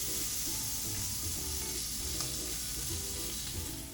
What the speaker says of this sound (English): Sear this side. And then sear the last bit.